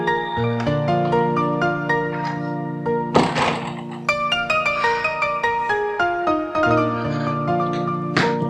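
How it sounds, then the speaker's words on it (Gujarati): A mobile phone ringtone for an incoming call in a Gujarati family household plays a steady, loud electronic melody of repeating tonal notes for about eight seconds, broken by a couple of brief thumps. "પાછો આવશે હર્ષાબેન નો ફોન"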